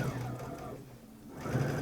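A Brother Innov-is XV sewing machine stitches around a cushion, its steady motor hum running continuously close by, easing off briefly midway before picking up again.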